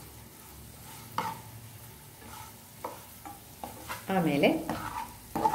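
An egg fries in oil in a pan, a steady soft sizzle with scraping stirs and a louder burst of spatter toward the end, with a brief spoken word.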